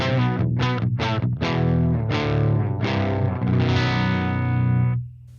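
Electric guitar tuned to standard B played through a Peavey 5150 amp with no HM2 pedal, giving a thick distorted metal tone: a few choppy chugs, then sustained ringing chords that cut off abruptly at the end.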